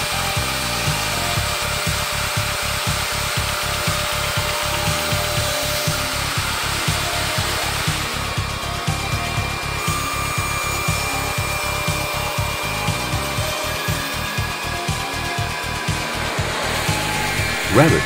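A woodworking machine cutting wooden beams into shaped ends for posts, stairs, fences and furniture, a steady loud motor whine with a rapid rhythmic chopping pulse running throughout, no voices.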